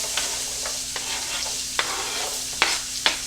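Diced onion sautés in butter in a hot pan on medium-high heat, giving a steady close sizzle with a few sharp scrapes and taps from stirring.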